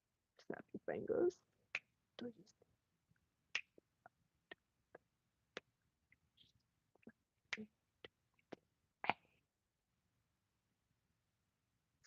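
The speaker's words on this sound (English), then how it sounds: "All right, snap your fingers." A run of sharp, dry finger snaps, close and fairly quiet, comes in an irregular rhythm over about twelve seconds, with a denser cluster near the start and soft murmured talk between the snaps.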